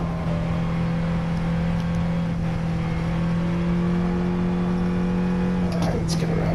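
A Nissan 370Z engine on a track lap holds a steady, droning high-rpm note at close range, loud and continuous, with a brief change in pitch near the end as the revs shift.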